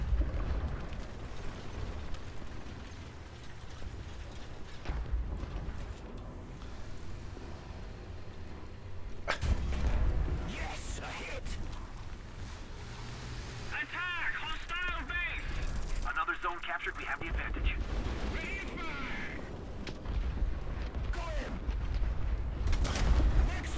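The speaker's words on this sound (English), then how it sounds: "Our sector is under artillery barrage." An artillery barrage lands in War Thunder during a Tiger II (H) tank battle on a desert map, with repeated heavy booms and rumbling blasts spread over the span, some sharp and close, and a voice talking in between.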